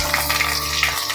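Potatoes tipped into hot oil in a pan for a thin Bengali fish curry give a brief burst of loud, steady hissing sizzle, close by and unbroken.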